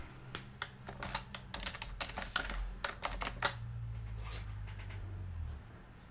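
Fast, irregular tapping of computer keyboard keys as text is entered into a form field, close and clear, over a low steady hum that fades near the end.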